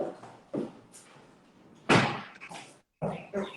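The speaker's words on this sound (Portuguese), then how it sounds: "Só um minutinho que eu vou fechar minha porta." A door is pushed shut with a single solid thud near the two-second mark, followed by a short clatter and a brief silence, among scattered room noises and muffled movement.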